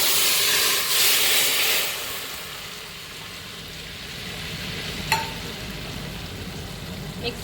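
Mutton gravy with peas fries in a pan, opening with a loud, hissing sizzle that settles into a quieter, steady bubbling. One sharp scrape of a stirring utensil sounds midway, and no one speaks.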